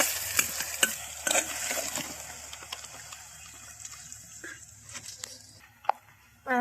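Onion fries in a pan over a wood-fired stove for chicken gravy, a soft continuous sizzle with intermittent scraping and stirring knocks, close and moderate, while someone talks over it.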